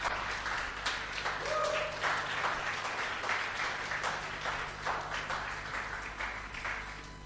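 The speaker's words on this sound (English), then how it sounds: "Give yourselves a huge round of applause." A fairly faint round of audience clapping at a third-birthday Sheffield DM event, a loose patter of claps that swells early and gradually thins out.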